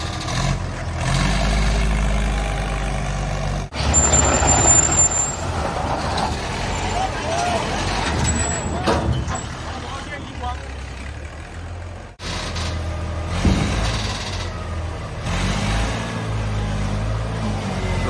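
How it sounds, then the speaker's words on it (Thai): A small crane truck drives nearby with a rumbling engine that rises and shifts and a brief hiss partway through, steady and fairly loud, with someone talking over it. "อันนี้รถเคนคันเล็กนะครับ"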